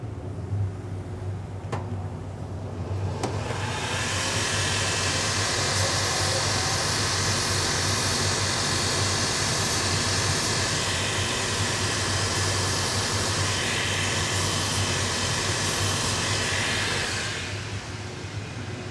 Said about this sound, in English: First thing I want to do is I'm going to touch these with the grinder.